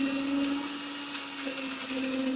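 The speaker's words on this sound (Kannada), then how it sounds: "ರೆಡಿ ಮಾಡ್ಕೊಂಡಿರೋಂಥ ಮಸಾಲೆನ ರುಬ್ಕೊಳ್ಳೋಣ." A kitchen mixer grinder whirs continuously and close by, grinding a freshly prepared masala with mint leaves for village-style chicken biryani, a steady motor whine with faint grinding texture.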